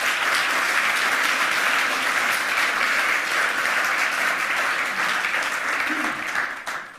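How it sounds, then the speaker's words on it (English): A conference audience at the 27c3 hacker congress greets a speaker on privacy-enhancing technologies with warm, continuous applause. The dense, even clapping fills the hall and fades slightly near the end. "Please give her a warm round of applause of welcome"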